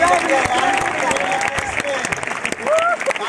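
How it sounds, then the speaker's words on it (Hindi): Audience applause at an anniversary gathering, a dense steady patter of clapping lasting a few seconds with voices talking and calling out over it. "अरे ताली तो बजाओ यार"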